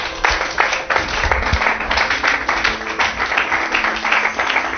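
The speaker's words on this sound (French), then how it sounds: "Applaudissons le Seigneur Jésus." Congregation applause during a church service, sustained dense clapping from many hands for about five seconds, loud and continuous, with no speech over it.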